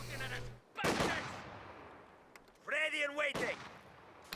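Booming artillery and gunfire from a war video game come in loud bursts, with a sharp blast early on. A strident, wavering mechanical sound follows later, with quieter gaps in between.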